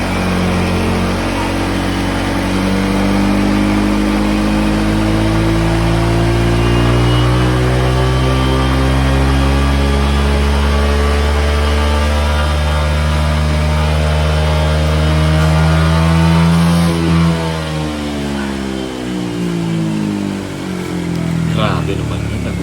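A Honda Click 150 scooter engine revs up and holds high, its pitch climbing steadily before dropping back, loud and close, with someone talking over it.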